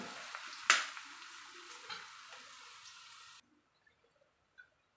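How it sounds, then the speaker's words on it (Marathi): Onion sautéing on low flame for urad dal varan gives a soft, close frying hiss with a few stirring knocks, then cuts off to near silence with faint clicks. "कांदा मंद गॅसवर छान परतून घेऊया"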